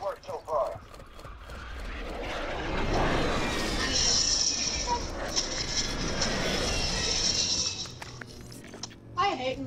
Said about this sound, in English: I hate mosquito drones.